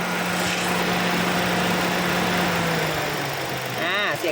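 A 2018 Toyota Altis 1.6-litre engine idles steadily with a low, even hum, close by, with no talking over it.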